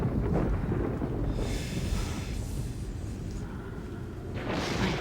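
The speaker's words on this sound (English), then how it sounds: "The thunder and like the rain sounds right now, making this scene so dramatic." Thunder rumbles heavily through steady rain in a dramatic Donnie Darko film scene, a loud continuous wash of low rolling booms and hiss with surges of intensity.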